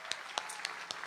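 Applause from a live music show audience, a small crowd clapping with sharp distinct claps in a loose rhythm, moderately close, no voices.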